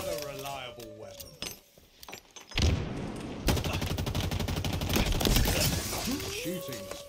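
Automatic weapon fire from a Halo Infinite 2v2 Forge map match, heard as a dense sustained burst of rapid shots after a sharp crack, with game sounds and a voice around it.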